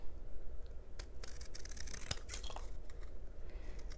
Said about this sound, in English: I'm going to trim it down a little bit